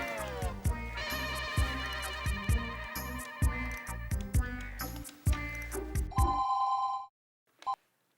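A phone rings with a melodic ringtone, repeating musical phrases over a thumping beat, then cuts off into silence with one brief beep after.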